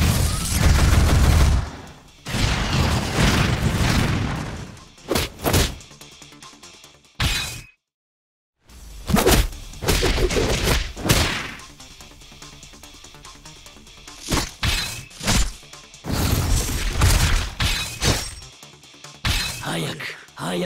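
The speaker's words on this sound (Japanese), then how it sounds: "ミサイル発射。" Missile launch and a string of explosions in the One Punch Man Road To Hero 2.0 game: loud, dense bursts of booms and crashes repeating through the stretch, with one brief silent gap, and a voice talking over parts of it.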